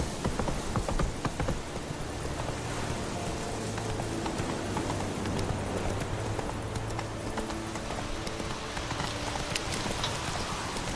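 Roach the horse gallops through rain in The Witcher 3, with rapid rhythmic hoof clops over a dense hiss of rainfall, continuous and fairly close.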